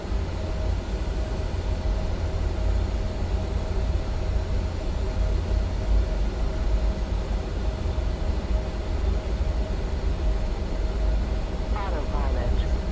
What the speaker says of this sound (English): There's a CRJ takeoff.